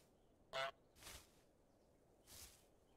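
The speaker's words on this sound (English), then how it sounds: "Press square to honk." A single short, bright goose honk from Untitled Goose Game, followed by two soft swishing sounds over a faint background hum.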